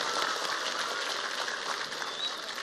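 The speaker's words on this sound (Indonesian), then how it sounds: "Tepuk tangan untuk Indramayu." A crowd claps for Indramayu during a talk, a dense, even wash of applause at low level heard from a distance.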